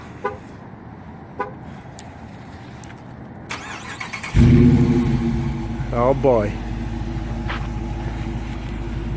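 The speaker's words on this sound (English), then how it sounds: "And then listen to this. Remote start." A few clicks and chirps, then a 2019 Dodge Challenger R/T's Hemi V8 remote-starts, cranking and roaring to life, settling into a deep, loud rumbling idle; a voice speaks briefly.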